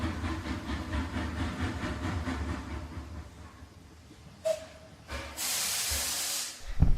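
A train stands with its engine rumbling and chugging, then a loud burst of steam hiss follows as the engine vents, close and dominant.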